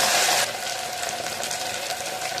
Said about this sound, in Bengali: তেল খুব ভালো গরম হয়ে গেছে। এবার এই গরম তেলের মধ্যে আলুগুলো